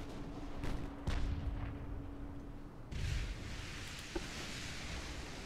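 Warship main guns firing in the naval game Ultimate Admiral: Dreadnoughts: quiet, distant booms, a couple of sharp reports early, then a heavier muffled blast and a small pop later over a low rumbling background.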